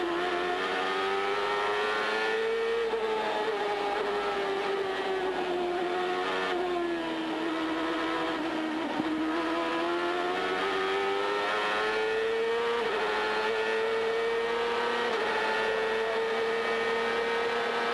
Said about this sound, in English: Let's just have a little listen to the engine working hard.